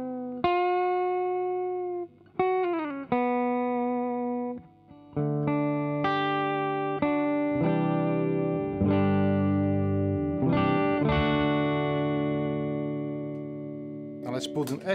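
Gretsch G5120 hollowbody electric guitar played clean with its Bigsby vibrato, chords and notes swelling and wavering in pitch, several strummed chords ringing out one after another, loud and close, with a slight distorted edge at the end.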